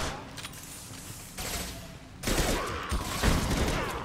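Incendiary-ammo gunfire in the video game Mass Effect 2 comes as dense, continuous bursts that grow louder and busier partway through, with no speech.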